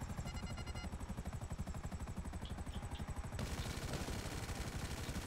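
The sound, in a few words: gunfire in the video game GTA V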